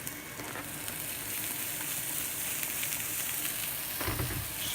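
Garlic and herbs fry in oil with a steady, close sizzle while a utensil stirs the pan, the crackle swelling briefly near the end.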